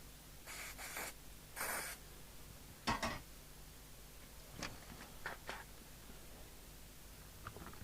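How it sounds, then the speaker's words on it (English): An aerosol can of isopropyl alcohol sprays onto the power lead of a Midland 48 Excel CB radio in a couple of quiet hissing bursts. A few faint clicks and rustles follow in an otherwise hushed room. "We'll clean that with isopropyl alcohol."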